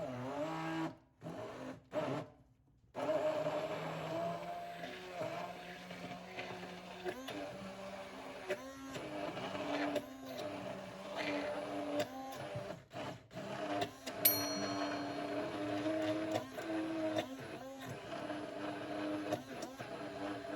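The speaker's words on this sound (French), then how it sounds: "on va venir le mixer avec le beurre, le sel" A kitchen blender mixes caramel with cold butter cubes and salt in a measuring jug. It gives a continuous motor whir that is interrupted by several brief stops and restarts, and a voice speaks at moments underneath.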